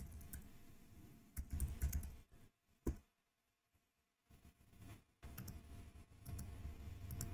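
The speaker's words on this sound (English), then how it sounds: "So I'm just kind of typing this up." Typing on a computer keyboard: quiet bursts of rapid key clicks, with a pause near the middle and a few sharper isolated taps, close and fairly soft, with no talk.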